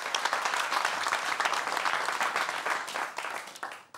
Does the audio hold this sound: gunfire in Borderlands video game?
no